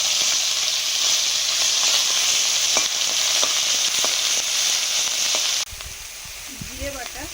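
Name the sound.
onion paste frying in oil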